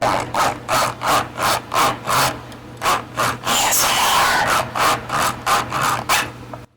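Rhythmic scratchy rubbing of a textured plastic blister pack on a Hot Wheels toy car, a dozen or so quick strokes in a steady pulse, close and fairly loud with a low hum beneath.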